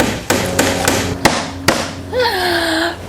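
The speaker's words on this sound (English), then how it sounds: "now let's see about getting this piece of wood nailed" Hammer driving a nail through a piece of wood into door framing while installing exterior French doors: five sharp, close strikes at a steady rhythm, followed by a brief squeak.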